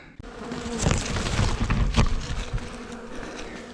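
A honeybee swarm shaken from a branch into a box below gives a dense, loud buzzing that swells after an opening knock and holds steady throughout.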